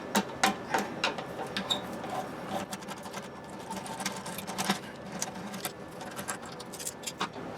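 A Phillips screwdriver backs out toilet seat screws from the top, faint close clicking and ticking in quick irregular taps over a quiet room.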